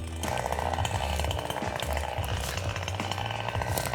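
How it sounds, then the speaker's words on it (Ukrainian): A Dnipro-M petrol chainsaw cutting a thick tree runs steadily at full throttle throughout, a loud buzzing engine drone with slight rises and dips in pitch. "спробуємо ще грубше дерево і вже бензиновою пилою"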